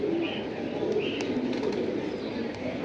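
A pair of pigeons, male and female, coo softly at close range in repeated low, rolling calls, with a voice murmuring faintly underneath.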